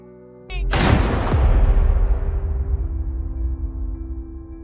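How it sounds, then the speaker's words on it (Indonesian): A sudden loud blast rings out, followed by a long booming echo that slowly fades, like a single gunshot in a reverberant space. "Tiba-tiba suara tembakan terdengar."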